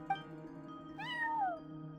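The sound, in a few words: cat meowing, from a video game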